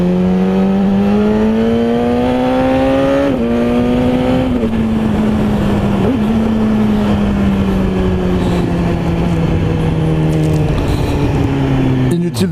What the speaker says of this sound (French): La moto est équipée forcément de shifter, donc on passe comme sur la H2 les vitesses à la volée.